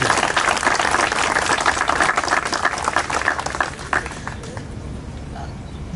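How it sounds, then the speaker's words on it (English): An audience at a county street-renaming ceremony in Freeport applauds the family of the late Ernest Kight Jr., a lively burst of many clapping hands that thins and trails off midway, with a voice heard over it. "Please join me in applauding them."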